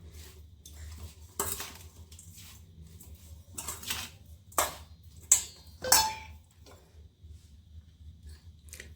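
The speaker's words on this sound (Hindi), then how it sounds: "तो इस तरह से तेल थोड़ा थोड़ा मिक्स करते जाएंगे इसमें।" A spoon stirs oil into a homemade carrot, radish and green chili pickle in a metal bowl, giving a few scattered clinks and scrapes over a quiet background, with louder knocks clustered near the middle.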